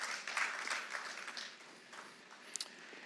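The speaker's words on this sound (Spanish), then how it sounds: "Dale un aplauso al Señor" A church congregation at a Spanish-language worship service breaks into scattered applause, soft and somewhat distant, swelling briefly then thinning out.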